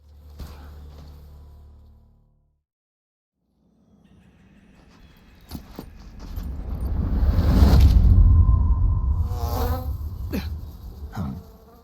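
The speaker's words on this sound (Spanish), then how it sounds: "aparecen unas avispas que interrumpen el combate y atacan todo a su paso" Wasps swarm in the Metal Gear Solid Delta video game, a rising insect buzz that builds loud over rumbling game audio after a brief near-silent gap, with sharp hits cutting through.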